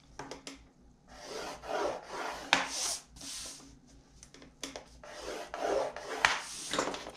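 Paper scored on all four sides for a stationery craft project, heard as a series of close, dry scraping and rubbing strokes in an uneven rhythm, with a few light taps in between.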